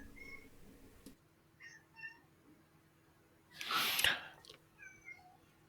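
A cat meows indoors near a microphone, several short faint mews followed by one loud, close, drawn-out meow and a last quieter call.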